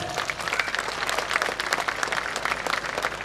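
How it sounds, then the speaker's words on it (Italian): Audience at an Italian folklore festival magic show applauding on cue for a queen of hearts card trick, a brief burst of dense clapping lasting about three seconds. "Al mio tre, applauso per la donna di cuori."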